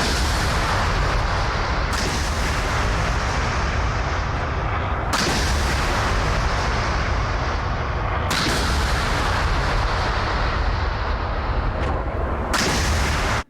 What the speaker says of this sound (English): SAM's going up already.